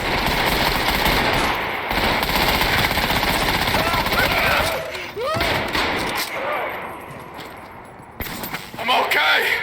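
Video game gunfire aimed at the player, with rapid automatic bursts and loud repeated shots over several seconds, broken by brief lulls as a person talks over the action.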